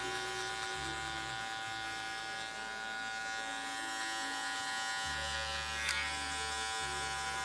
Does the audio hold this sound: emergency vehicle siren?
no